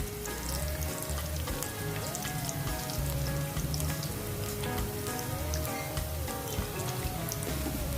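Garlic sizzles and crackles in hot oil in a pan while ridge gourd is being cooked, a steady, fairly quiet frying hiss with scattered pops, accompanied by a soft melodic tone in the background.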